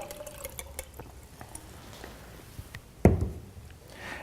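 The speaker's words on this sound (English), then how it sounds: "So we'll take our tomatoes that have been soaking in the tap water and we're going to pour them" Soaked tomatoes and tap water poured into a cup in a kitchen: faint trickles and small clinks, then a sudden splashy pour with a thud that quickly settles into a brief gurgle.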